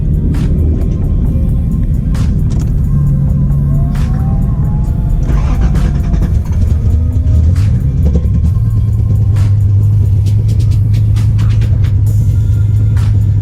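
A Nissan 300ZX engine cranks and settles into a steady, low rumbling idle. The running note drones on throughout with a little wavering pitch partway through.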